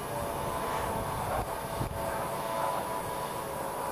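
An H2O Aviax RC model airplane from GPtoys flies on a demo flight, its small electric motor giving a steady, even buzz that carries at a fairly constant level the whole time, with no talk over it.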